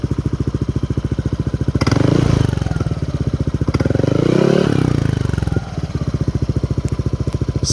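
A Yamaha Aerox motorcycle with a VMAX Orion aftermarket exhaust pipe idles with a rapid, throaty exhaust pulse, revving up twice in smooth swells before settling back to a steady idle.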